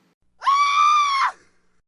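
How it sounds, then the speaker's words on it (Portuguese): A single shrill scream with a strong, steady pitch, a man's cry in a dark masked-ball tale as a dagger falls, rising sharply, holding for nearly a second, then breaking off, close and alone. "Ecoou um grito agudo e o punhal caiu."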